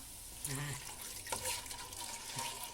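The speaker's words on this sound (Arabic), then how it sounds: "دوك نرمو الماء" Water splashes into a pan of frying potatoes and desert truffles for an Algerian stew, a brief pour with a soft hiss and gurgle over steady kitchen background noise, close by.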